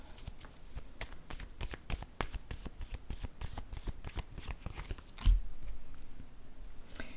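Tarot cards being shuffled by hand: a rapid, steady flutter of riffled cards close up for about five seconds, then a soft thump and a quieter shuffling as cards are drawn, with no talk.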